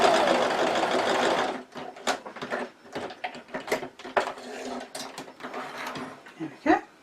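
A sewing machine runs steadily at close range for about a second and a half as it stitches closed the gap in a fabric purse, followed by scattered thread-handling clicks and rustles.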